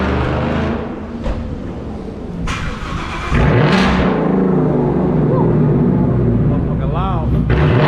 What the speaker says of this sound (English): let me get that started up on a little rev or something